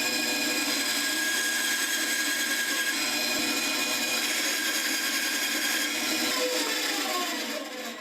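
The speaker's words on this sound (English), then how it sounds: "I like cutting it off from the stock with the bandsaw." A bandsaw slices a wooden fishing lure body, a replica of the vintage Heddon Torpedo, free from its stock, giving a steady loud whine and rasp for the whole cut that tapers off at the end, with no voices.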